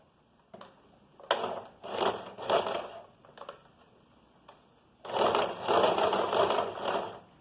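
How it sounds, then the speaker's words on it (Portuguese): A sewing machine topstitches close to the edge of a garment cuff in short whirring runs separated by pauses. A single click comes first, and the longest, steadiest run of stitching comes at the end. "aqui a gente vai fazer um pesponto bem na beirinha, fazendo todo o contorno do punho"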